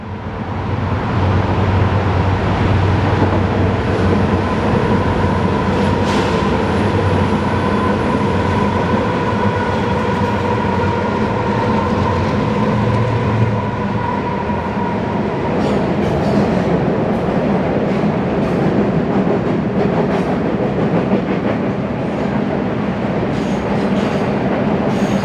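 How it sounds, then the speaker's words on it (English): A Union Pacific freight train, a Z train led by locomotive 1943, rolls steadily through dual truss bridge spans near Eagle Creek on the Portland Sub, a loud continuous rumble with clattering wheels and squealing flanges throughout, with other traffic in the background. "UP 1943 leads its Z train through the dual truss spans"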